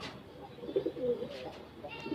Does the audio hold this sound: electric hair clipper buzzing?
no